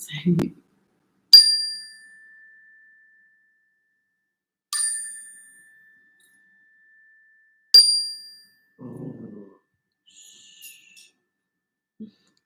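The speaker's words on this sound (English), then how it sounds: "we're going to ground ourselves with a little sound bell here" A small sound bell is struck three times at spaced intervals, each a clear bright ring decaying slowly in a quiet room, with a brief soft rustle afterward.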